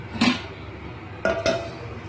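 A lid set down on a cooking pot of curry with three quick clinks: one metallic knock, then a pause and two close, ringing taps, near and clear with no talking.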